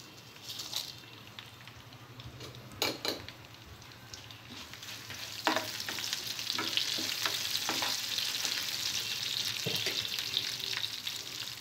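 Dried red chilies fry with tempering seeds and garlic in hot oil in a pan. A soft, continuous sizzle builds up, broken by occasional sharp crackles and clicks from stirring, and no one speaks.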